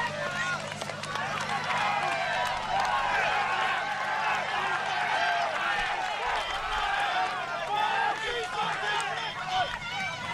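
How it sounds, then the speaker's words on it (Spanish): A cycling-race crowd cheers and claps for passing riders during Omloop Het Nieuwsblad, a dense, steady mix of applause and shouting, with commentary layered over it. "De ahí el aplauso de la gente."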